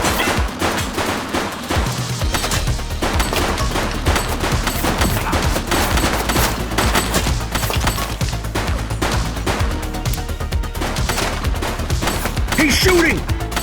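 Rapid gunfire in The Precinct police game, dense continuous volleys of shots, loud and close throughout, with faint game voices underneath.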